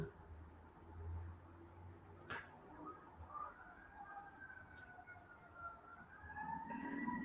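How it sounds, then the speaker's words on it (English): Faint fire department sirens wail in the distance, their rising and falling tones layered over a low rumble of traffic, growing a little stronger toward the end. "we hear everything from the fire department whenever they do their sirens"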